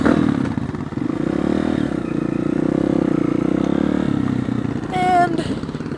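Dirt bike engine running on a trail ride just after the choke is switched off, a loud close buzzing motor with rattling clatter, steady then swelling briefly near the end.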